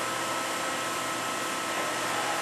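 A Daewoo ACE-H100 horizontal machining center spindle whirs at around 2,500 RPM, a steady, loud, broadband whine holding constant throughout with no voices.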